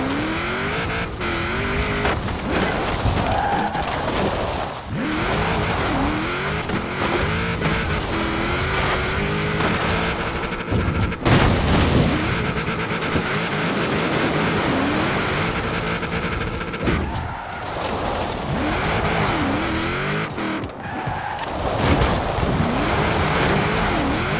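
A car drifts in the racing game Forza Horizon 4. Its engine drones loudly and continuously, with shifting pitch, long tire-slide hiss and revving through the corners.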